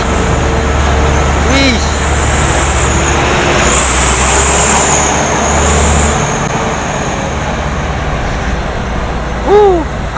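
A modified Euro 4 Hino 500 trailer truck loaded with iron pipes roars loudly and steadily as it climbs a steep hill, with dense road noise throughout and brief voices.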